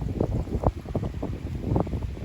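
A hot east wind blowing through an Oregon garden during a record heat wave gusts against the microphone, a close, uneven rumble that surges and dips throughout.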